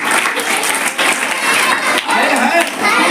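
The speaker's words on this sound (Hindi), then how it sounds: "तालियां" Sustained crowd applause during a competition results announcement, dense clapping holding steady for about three seconds with brief dips, loud and close.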